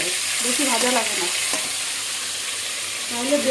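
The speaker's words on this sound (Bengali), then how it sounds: "কড়াইতে তেল দিয়ে দিয়েছি মাছগুলো ভাজার জন্য।" Prawns fry in hot oil in a kadai for Bengali prawn malai curry, giving a steady, close, crackling sizzle that holds throughout with faint bubbling pops.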